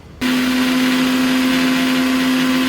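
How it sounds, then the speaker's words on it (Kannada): An electric mixer grinder blends chilli, grated coconut, garlic, ginger, mint and coriander into a paste, starting abruptly and running as a loud, steady high-pitched motor whine with churning underneath. "ಮೆಣಸಿನ್ಕಾಯಿ, ಕಾಯಿ ತುರಿ, ಬೆಳ್ಳುಳ್ಳಿ, ಶುಂಠಿ, ಸ್ವಲ್ಪ ಪುದೀನ ಸೊಪ್ಪು, ಕೊತ್ತಂಬರಿ ಸೊಪ್ಪು ಇಷ್ಟನ್ನು ಕೂಡ ಪೇಸ್ಟ್ ಮಾಡ್ಕೊಬೇಕು"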